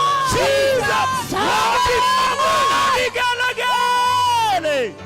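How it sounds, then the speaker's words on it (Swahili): A church congregation at a Kikuyu Sunday service lets out ululation, loud high trilling cries rising and falling in several overlapping waves, close and continuous for a few seconds. "Vigelegele."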